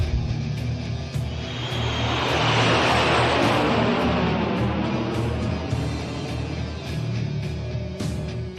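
Airship engines spooling up for takeoff in the Tales of Xillia video game, a loud, steady mechanical roar that swells into a rushing whoosh and then settles, with no talking.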